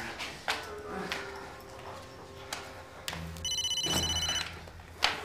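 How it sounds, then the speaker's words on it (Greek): A mobile phone rings with a repeating electronic tone partway through, over faint background clatter and a few thumps. "Το κινητό σου!"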